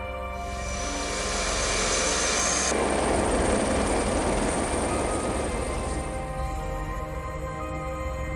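A loud, steady helicopter rotor drone with a high whine, swelling slightly and holding close throughout.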